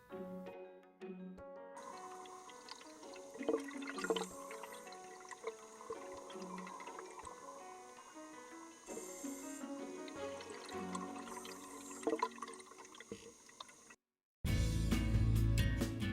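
Scuba divers splash into Great Lakes water and descend toward the Cornelia B. Windiate shipwreck, with bubbling, rushing underwater noise and regulator breathing that runs steadily, then a loud burst of bubbles near the end.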